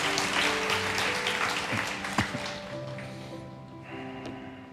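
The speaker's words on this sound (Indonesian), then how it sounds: "mau tepuk tangan nih saatnya" A church congregation claps in a dense burst of applause that gradually thins and fades, with a few scattered voices and bumps underneath.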